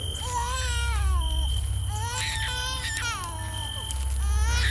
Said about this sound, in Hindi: पास के जंगल से एक बच्चे के रोने की आवाज आने लगती है।